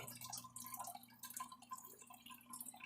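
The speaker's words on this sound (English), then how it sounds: "the only thing creating these bubbles is the flow rate from my canister filter" Water from a canister filter drives a steady stream of micro bubbles through an aquarium CO2 reactor, giving faint continuous fizzing and dripping patter, close and quiet with no voices.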